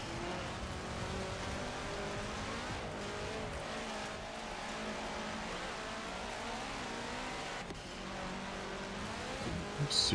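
An engine of a car in Forza Horizon racing and revving steadily, with faint pops now and then, loud and continuous throughout with no talking.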